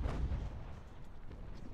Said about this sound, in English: Our artillery's doing a little bit of damage.